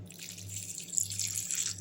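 Water poured from a vessel onto cooked rice in a kitchen, a faint steady trickle and splash with a low hum beneath, soft and continuous with no voices.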